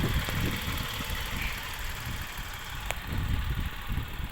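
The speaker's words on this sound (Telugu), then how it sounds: "ఇంజన్ చూడొచ్చు, చాలా స్మూత్గా ఉంది" Suzuki Swift ZXi+ 2025 engine idling smoothly, a steady, even low rumble with a faint mechanical hiss that holds at a constant level throughout, with no voices.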